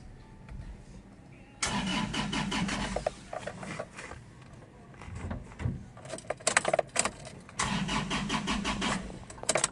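An Isuzu Traviz that would not start after being parked is cranked; the starter churns in rhythmic bursts, stutters through a gap of uneven rattles and clicks, then cranks again in steady repeated pulses, close and loud.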